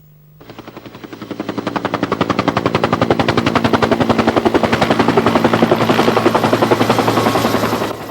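A military helicopter flies close overhead delivering a Bofors Bill missile squad, loud rapid rotor chop that starts abruptly and stays steady throughout, no voices.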